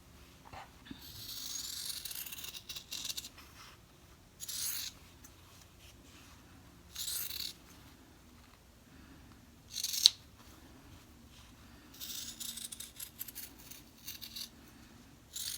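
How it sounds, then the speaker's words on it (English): Scissors snip across fabric while lining a zipper bag, several short crisp cutting bursts spaced a few seconds apart, close and fairly quiet in a calm room. "I'm just going to cut across there."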